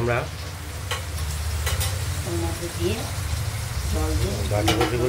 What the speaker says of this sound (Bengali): এই ইলিশ মাছের মাথাগুলো আমরা ভেজে নিচ্ছি